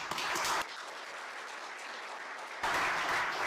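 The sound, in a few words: applause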